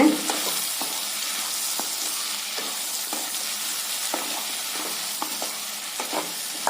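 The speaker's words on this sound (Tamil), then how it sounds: "கத்திரிக்காயை நல்லா இந்த எண்ணெயில் நல்லா பரட்டி விடுங்க" Brinjal (eggplant) stir-fries in oil for a vegetable kootu, giving a continuous hissing sizzle with regular light scrapes and taps of the spatula, close by and with no talking.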